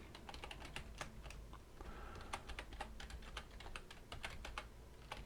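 Rapid clatter of keys on a computer keyboard, irregular bursts of clicks and taps in a quiet room, fairly close and soft, with no talking.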